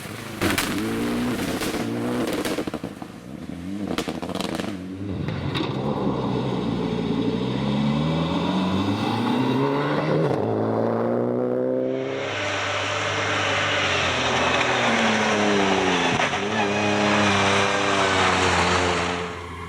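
A Mitsubishi Evo rally car on a gravel stage at the Scottish Rally, its engine climbing through revs and shifting gears, then a loud rush of gravel spray as it passes close.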